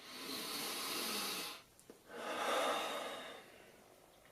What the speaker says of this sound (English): though, is just breathing. Just deep breathing.